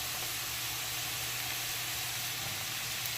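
Chopped regular white onion sizzles steadily in a hot pan, a soft, constant hiss and crackle of frying with no talk over it.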